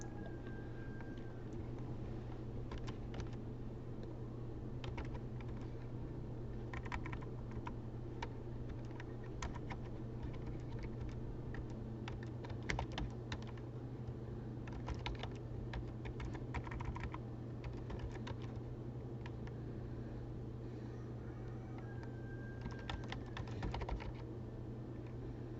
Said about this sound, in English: And now when I type this text